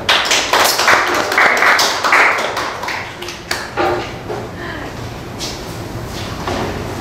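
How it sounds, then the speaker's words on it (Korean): An audience in a lecture room at a math academy's motivational talk applauds to welcome a guest speaker, giving a burst of close, uneven clapping that thins out into a few scattered claps and shuffling. "큰 박수로 환영해서 여기로 모시겠습니다"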